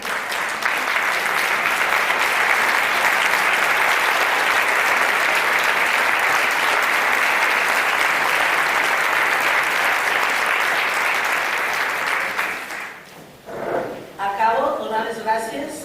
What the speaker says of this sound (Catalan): Demano que es planti perquè li puguem fer un fort aplaudiment